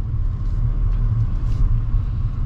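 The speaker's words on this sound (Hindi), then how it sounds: "देखो अभी 4 नंबर गियर पे मेरा गाड़ी चल रहा है" A car cruising in fourth gear, heard from inside the cabin: a loud, steady, low engine and road rumble that holds even, with no talking.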